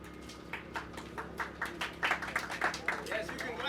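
Scattered hand claps from an audience at a senior citizen center opening event, a few people clapping irregularly and fairly close, with voices mixed in underneath.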